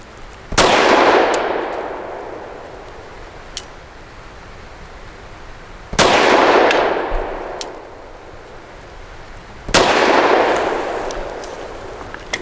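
Three loud, booming gunshots from a Zev Technologies OZ9C Hyper Comp pistol firing Liberty Silver Trainer ammunition, spaced several seconds apart outdoors, each with a long ringing decay.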